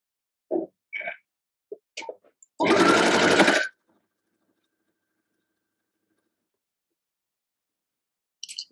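Sewing machine stitching barnstar sampler quilt pieces, one steady burst of about a second amid a few small clicks and taps, close and clear with no talking.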